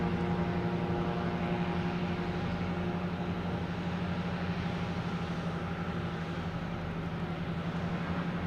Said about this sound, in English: I know there's that JetBlue coming in from Edinburgh, an A321 Neo.